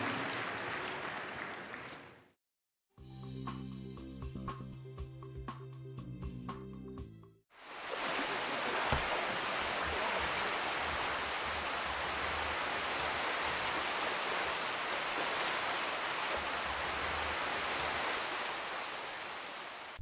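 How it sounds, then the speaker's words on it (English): Heavy rainstorm flooding church premises in the rainy season: a dense, loud hiss of downpour fills most of the stretch, interrupted early by a short break of music, then steady unbroken rain roaring on. "heavy rainstorms continue to flood the entire church premises"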